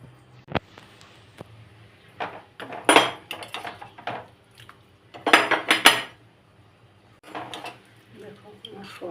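Clattering metal cookware as a lid goes onto a cooking pot of soybean curry just finished with ghee: several sharp clinks and scraping clanks in short bursts, close by, separated by quiet gaps.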